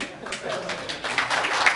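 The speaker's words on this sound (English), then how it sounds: "Give him a big round of applause." Audience applause breaks out after a self-defense demonstration, a short patter of clapping that swells slightly toward the end, heard at moderate distance.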